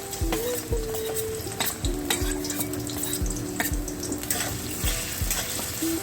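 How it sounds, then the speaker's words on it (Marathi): Finely chopped potato frying in hot oil in a pan: a continuous close sizzle with repeated scraping stirs at a steady rhythm, set against soft background music. "तेल तापलं की आपण यात बारीक चिरलेला बटाटा घालणार आहे"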